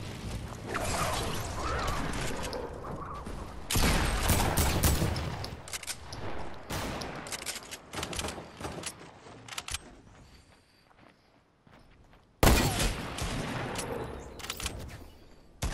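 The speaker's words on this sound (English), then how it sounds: "And they're shooting at us." Enemy gunfire in a shooter video game comes as bursts of rapid automatic shots mixed with mechanical clatter. After a near-silent gap, a loud close burst breaks in, and no voices are heard.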